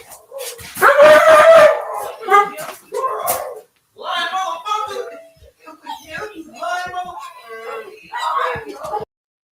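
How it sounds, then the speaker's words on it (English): A dog barks repeatedly in short bursts near a moving group, mixed with people talking loudly over it. "Dog barking."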